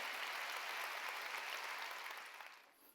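Congregation at a Wednesday worship service in a Korean church breaks into a burst of steady, many-handed applause. It sounds distant and quiet, holds for about two seconds, then tapers off.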